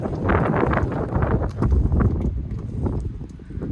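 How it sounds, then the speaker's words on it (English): Wind buffeting an outdoor microphone beside a Scania truck: a loud, continuous low rumble with gusty roar throughout and no speech. "I'm really fed up with this wind"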